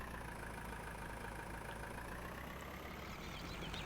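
A tractor fitted with a front loader idles in Farming Simulator 19, giving a faint, steady low engine hum that runs unchanged throughout without any voices.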